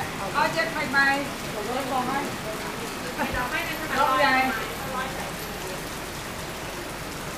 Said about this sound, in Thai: แต่ว่าวันนี้อากาศปิดนะ คือฝนตกนะครับ